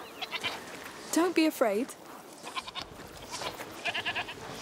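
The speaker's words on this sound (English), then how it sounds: "You're a nice goat, Lucinda." Lucinda the goat bleats in A Plague Tale: Requiem, giving two short wavering bleats close by. A voice talks softly before and after them.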